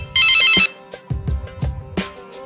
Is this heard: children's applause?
no